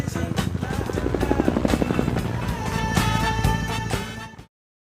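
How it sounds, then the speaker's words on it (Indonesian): Helicopter noise fills the scene, a loud rotor chop with rhythmic thumping and engine whine that rises throughout, then cuts off abruptly near the end. "mereka pun dijemput menggunakan helikopter"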